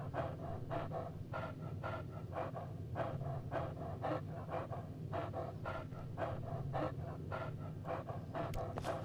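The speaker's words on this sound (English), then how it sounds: "Dog meat, stop panting." A dog pants in the video game Fallout 3, with quick rhythmic breaths repeating steadily and close up, alone over a low background hum.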